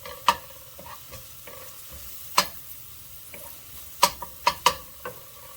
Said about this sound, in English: Hear that sizzle? It's jumping out of the pan.